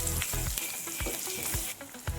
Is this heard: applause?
no